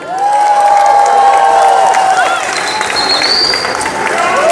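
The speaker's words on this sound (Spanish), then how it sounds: "Primer aplauso de esta noche para ustedes" A crowd packed into a Mexico City metro station at a disco dance gathering applauds and cheers, a loud sustained roar with whistles and shouts rising above the clapping.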